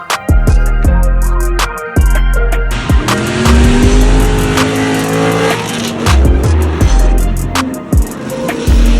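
A car drifting at a track called the Firm, with loud revving engine and long, sustained tire squeal; the screeching swells and falls through repeated slides, close and dominant throughout.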